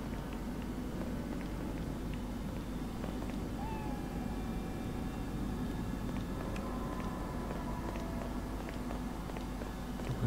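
A cat in the Xbox 360 game Lost Odyssey, heard as faint meow-like tones over a steady, dense bed of game ambience and music, with no talking.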